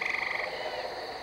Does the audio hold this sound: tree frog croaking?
yes